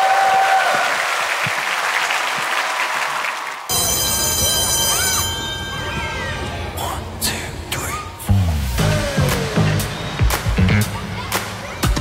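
A studio audience on a Korean television music show claps loudly for a few seconds, then the applause cuts off as a musical performance begins with sustained tones and sharp percussive hits.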